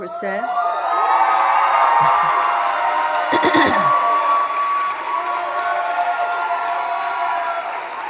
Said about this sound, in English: all that applause is for you